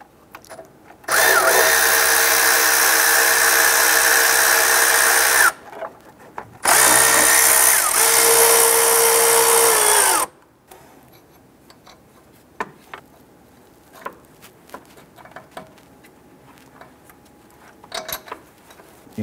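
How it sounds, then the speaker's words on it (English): A power tool runs in two loud sustained bursts of several seconds each while loosening the upper 12 mm bolts on a 2008–2013 Nissan Rogue AC compressor, followed by quieter scattered clicks and ticks of the socket work. "We're gonna use our 12 millimeter socket, loosen and remove the two upper bolts from up top here."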